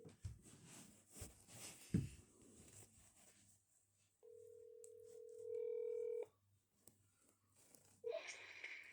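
A mobile phone dials a call: soft breathing and handling noises, then a sustained ringback tone, another short tone and a brief electronic chirp near the end.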